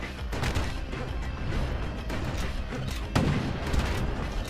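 Turrets firing in the video game Bastion, a dense run of booming, crashing shots that overlap into a continuous barrage, loud and close, with one sharper blast near the end.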